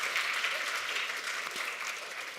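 An audience at a technology conference event applauds itself, a dense, steady round of clapping from a crowd in a hall, continuous throughout.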